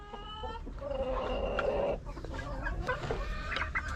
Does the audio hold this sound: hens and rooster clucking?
yes